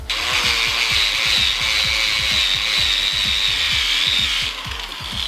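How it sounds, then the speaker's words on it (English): A grinder fitted with a fine wire wheel strips paint from a Lexus IS300 car wheel, giving a loud, steady high whine with rapid rhythmic scraping pulses underneath as the wire bites the surface. "So this is like a fine wire wheel on this grinder"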